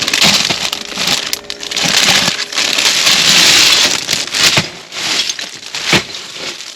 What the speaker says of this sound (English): you can break them up into little square ice cubes